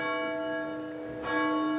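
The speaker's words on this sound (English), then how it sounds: "I just like to take any chance I can get to ring the bell at odd hours throughout the day." A church bell rings in a church building from 1903, two deep resonant strikes with long humming overtones that sustain and overlap, loud and clear with no voices.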